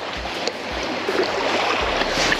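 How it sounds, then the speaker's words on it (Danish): Boat approaching on open coastal water near a sea trout fishing spot, a steady wash of water and wind noise with a soft low motor drone and a few light splashes, fairly distant. "Kommer der en båd"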